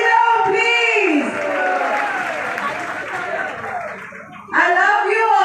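An audience in a theatre applauds a Shivani Gananatya troupe's stage artists with sustained clapping and some cheering, while an amplified voice talks over the applause throughout.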